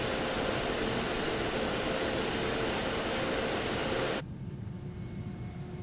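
Steady droning engine of a Piper M500 turboprop aircraft in Microsoft Flight Simulator, a constant broadband whoosh and hum that abruptly drops to a quieter, duller level near the end.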